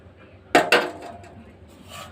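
A plate is set down as a lid over a pot of dried fish curry, two quick clattering knocks of metal on metal in close succession, followed by a faint scrape and quiet room tone.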